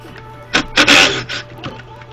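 Bolts being zipped off the top of a valve cover on a 2009 Chevy Silverado 1500 with a 5.3L engine: a few short, close whirring bursts from a power tool over a low steady hum, brief and fairly loud.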